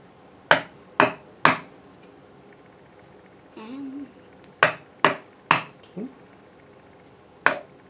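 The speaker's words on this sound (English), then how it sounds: "it's easier to hammer this way, right? Because we're going with the grain." A chisel struck with a hammer into a wooden pinewood derby car block along the grain, with sharp isolated knocks in two clusters and short pauses between; a voice murmurs briefly in between.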